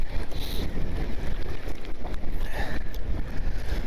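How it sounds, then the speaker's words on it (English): Wind blows hard across the open ice at a winter fishing spot, a continuous gusty rush and rumble that buffets the microphone throughout, with no talking. "This wind is going to be a real big pain in the rear."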